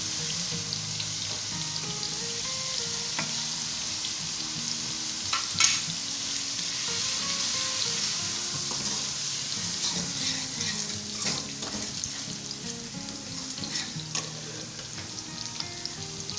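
Light-browned onions fry with spices for egg curry, sizzling steadily and close up, with occasional stirring scrapes and clinks against the pan and no talking.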